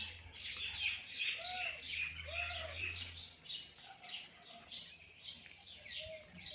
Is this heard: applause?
no